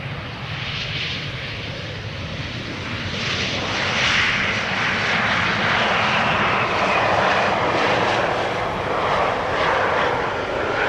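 A KLM Cityhopper airliner, flying for KLM, lands at Amsterdam Schiphol Airport, its steady engine roar swelling slightly louder midway and holding broad and continuous for about eleven seconds, with no voices.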